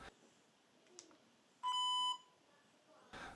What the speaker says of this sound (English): there's a beep at the beginning of the clip and a beep at the end of the clip.